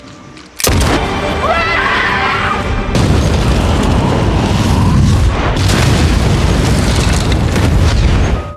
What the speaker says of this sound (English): As the explosion echoed through the sky, the bridge shattered.